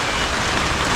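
Heavy rain pours down on a run-down, flood-prone house. It makes a dense, constant hiss that fills the whole moment, loud and close, with no talking over it.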